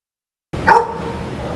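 A dog barks once sharply at a pet shelter, close and loud, then leaves a steady roomy background hum.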